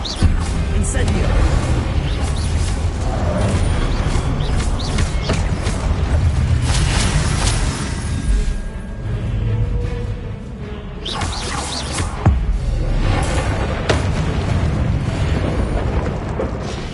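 Incendio fire spell erupts in a Hogwarts video game, with booming bursts and pops layered over dense, continuous game sound, with a voice speaking through it.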